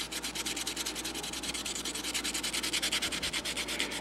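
Steady back-and-forth sanding of model airplane wheel pants, close and continuous, with a quick regular rasping rhythm and no talking.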